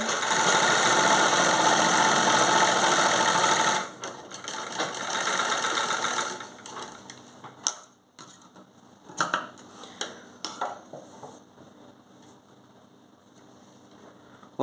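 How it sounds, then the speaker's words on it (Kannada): A sewing machine stitches a pant zipper fly, running loud and steady for several seconds, then quieter with short bursts of stitching and clicks as the fabric is handled, close up. "ಓಕೆನಾ ಸ್ಟಿಚಿಂಗ್ ಮಾತ್ರ ಸ್ಟ್ರೇಟಾಗಿ ಬರಬೇಕಾಗತ್ತೆ"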